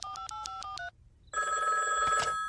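A telephone rings in a Simpsons episode: a short burst of repeated bell trills, a brief gap, then a louder, denser electronic ring, heard alone without talk.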